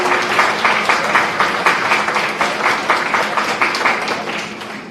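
Steady, dense applause from an audience at a law lecture, with many hands clapping at once in a continuous wash that holds at a fairly even level for the whole stretch and tapers slightly at the very end.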